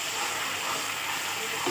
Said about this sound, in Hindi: अब इसको थोड़ा भून लेंगे हम।